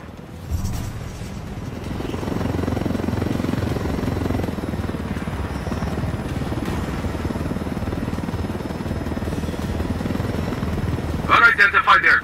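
A helicopter in the video game Ghost Recon Wildlands gives off a loud, steady rotor and engine drone that holds for the whole stretch, with a burst of other noise near the end.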